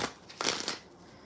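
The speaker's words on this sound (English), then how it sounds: "Why am I shuffling so much?" Playing cards being shuffled by hand, a short close riffle of crisp papery flutters rising to a quick burst then fading, quiet and alone.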